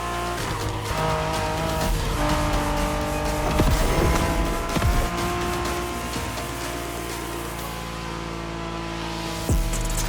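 A Honda NSX, a 1990s Japanese sports car, roars through a race in The Crew Motorfest, its engine droning loud and steady with tire squeal and skidding bursts midway and a sharp thump near the end.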